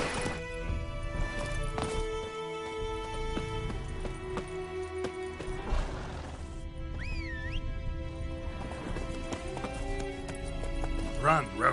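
In The Witcher 3 game, the horse Roach gallops with steady clip-clop hoofbeats. A whinny rises midway, and the hoofbeats run under game music and a voice speaking.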